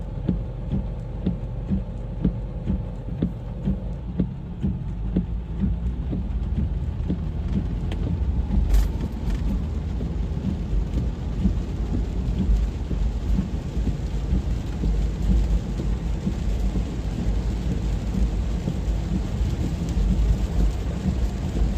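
Heavy rain pours steadily through an intense wind and lightning storm in Chester, Virginia, with deep rolling thunder rumbling beneath it and a sharp close crack partway through, loud and continuous throughout.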